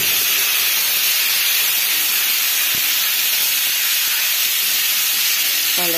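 Mango pieces for a chutney hit a hot pan already holding nigella seeds and a dried red chilli, setting off a loud, steady sizzling hiss that runs unbroken, with one brief knock near the middle.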